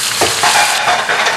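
Sambal hits hot oil in a wok with a loud, close sizzle and crackle that surges in short bursts as it is stirred.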